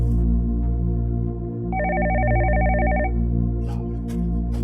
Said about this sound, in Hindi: एक और फोन आ गया।